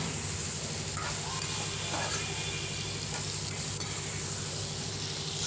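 Brinjal sautés in oil for kathirikai thokku, a constant even sizzle with faint stirring scrapes, close and steady throughout over a low hum.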